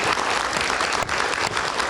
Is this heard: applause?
yes